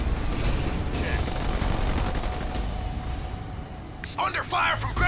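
Ground-troop gunfire in the real-time strategy game Halo Wars 2 forms a dense rumbling wash of shots and booms throughout, with a voice breaking in near the end.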